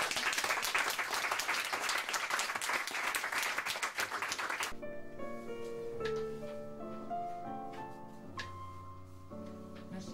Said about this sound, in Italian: quindi facciamo un applauso